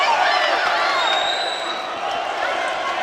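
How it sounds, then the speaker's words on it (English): A boxing crowd at York Hall in London, a steady loud roar of cheering and shouting that fills the hall throughout, with a few whistles rising above it. "the crowd are on fire here at York Hall"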